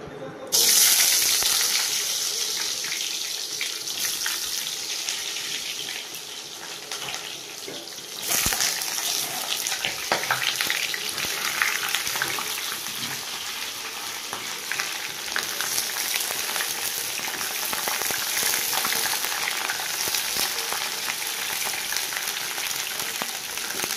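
Cumin, ginger and garlic fry in a pan for an elephant-foot yam curry, giving a steady, hissing sizzle. It swells after a sharp knock partway through and carries on with faint watery splashes.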